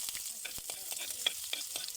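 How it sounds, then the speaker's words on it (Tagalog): Garlic sautéing in hot reused cooking oil, crackling and sizzling up close with a run of sharp pops and spatters throughout, no voices. "So maglunod na ta og ahos."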